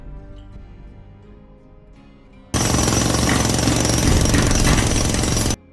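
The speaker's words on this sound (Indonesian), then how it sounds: "para pekerja sedang sibuk menggali terowongan untuk jalan pelarian El Capo" Loud, continuous jackhammer pounding by workers digging an escape tunnel near Altiplano prison, bursting in abruptly after a quieter stretch and hammering steadily without a break until it cuts off.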